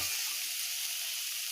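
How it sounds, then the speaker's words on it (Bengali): Onions sizzling in a hot pan while chowmein is being cooked, a steady close frying hiss that runs alone and evenly from start to finish. "চাউমিন এখন করতে গেলে পেঁয়াজটা ভাজা করতে হচ্ছে"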